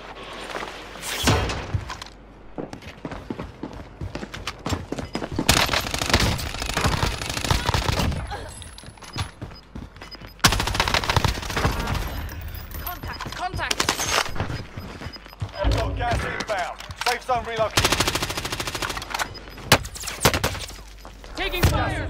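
Rapid machine gun bursts and scattered gunshots fill a Call of Duty Warzone match on Rebirth Island, loud and repeated with thuds and impacts, while players talk over the fire.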